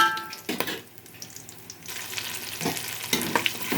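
Onion and green chilli fry in hot ghee and oil with whole garam masala, a crackling sizzle broken by brisk stirring scrapes against the pan, close and fairly quiet with no talking.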